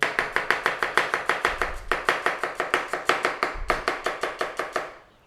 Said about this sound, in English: now you can go down the lines of slice it in half again